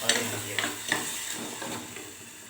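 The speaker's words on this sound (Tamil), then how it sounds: "தக்காளி கிரேவியாக வச்சுருக்கேன்ல இதை எடுத்து அதில் போட்டு அதையும் நல்லா வதக்கிக்கிறேன்" Tomato gravy sautés in a hot pan with a soft sizzle underneath a few separate scraping spoon strokes against the metal, heard close and fairly quiet.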